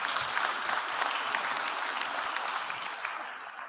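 Steady, dense applause from a large audience at a graduation ceremony, many hands clapping at an even level for several seconds.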